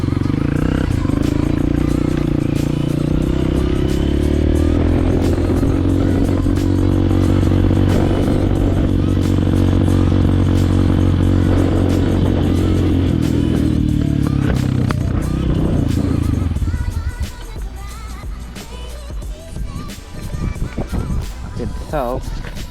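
A motorcycle engine low on fuel runs rough, chugging and clattering unevenly before it falters and changes near the end, with a voice talking over parts of it.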